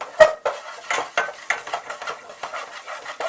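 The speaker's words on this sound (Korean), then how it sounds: "밀가루도 비슷하게 넣어줄게요. 한 큰술 반에서 2큰술 정도 들어갔습니다. 그런 다음에 섞어줍니다." Flour is stirred into melted butter in a pan to make a white roux for fish chowder, with a steady run of close, rhythmic scraping strokes and no voices.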